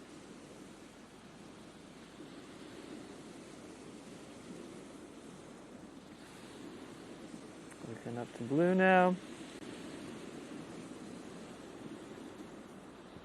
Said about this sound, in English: Can you hear the waves in the background?